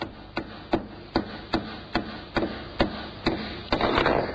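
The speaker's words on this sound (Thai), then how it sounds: "ผมหยิบตะปูมาและใช้กล้วยตอกแทนค้อน" A banana frozen in liquid nitrogen hammers a nail with about ten sharp, evenly timed knocks. A louder, noisier burst comes at the end.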